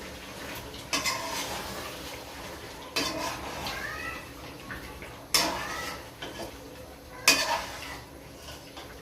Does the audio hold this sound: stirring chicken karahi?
yes